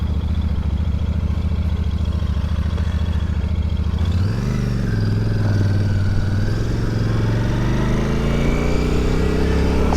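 A 2023 Royal Enfield Super Meteor 650 motorcycle idles steadily with a low, even engine rumble, then accelerates away, its pitch rising and settling into a continuous loud drone as the ride gets underway.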